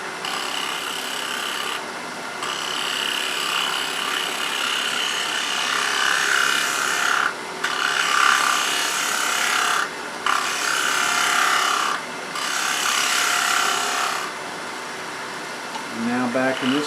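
Wood on a lathe being turned to a gentle taper for a split-turned brace repair, a steady close scraping hiss of the tool on the spinning workpiece, interrupted by several brief pauses, with speech in the background.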